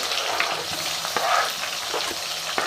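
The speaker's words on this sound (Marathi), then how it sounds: "मीडियम गॅसवरती कांदा अक्षरशः मऊ सूत पडेपर्यंत व्यवस्थित आपल्याला याला भाजून घ्यायचं आहे" Onions fry in a pan over medium heat for vegetable biryani, a steady close crackling sizzle with a few soft stirring scrapes throughout.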